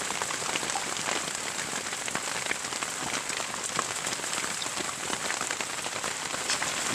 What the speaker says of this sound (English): Very windy and rainy.